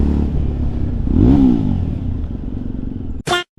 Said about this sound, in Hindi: मजा आता है इधर बाइक चलाने में